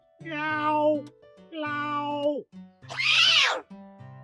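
A man imitates a cat with three drawn-out meows, the last higher and more strained like a yowl, close and clear over a faint repeating low musical tone.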